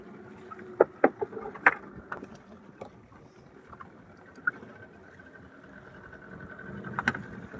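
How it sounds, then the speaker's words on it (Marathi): A fishing boat sits at sea at night off Malvan-Dandi while a net is cast for mackerel: a low steady engine and wind hum carries sharp knocks and clatters from the deck, some close and loud. "आता जाळी टाकत टाकत आपली होडी थोडी हळूहळू पाठी जाताना पाहायला भेटत आहे"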